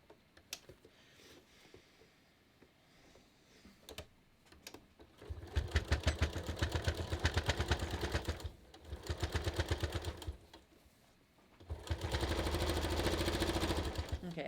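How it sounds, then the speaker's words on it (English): A sewing machine stitches fabric for a red heart banner, running in three steady bursts of rapid mechanical ticking with short pauses between them, fairly close and clear. "And then we're going to stitch."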